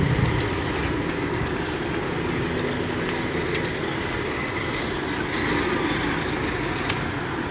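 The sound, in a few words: truck passing near apartment complex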